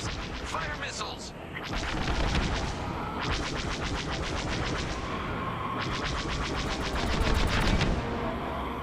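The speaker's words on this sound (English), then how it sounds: "Fire missiles." A spacecraft in a space combat video game fires rapid, rattling volleys at enemy fighters, with rhythmic bursts of repeated shots over a busy, noisy battle background.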